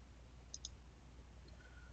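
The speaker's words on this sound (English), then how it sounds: "So I'm using left mouse clicks" Two quick computer mouse left clicks close together, faint against a steady low hum, with a fainter click later while tracing a boundary in GIS digitizing software.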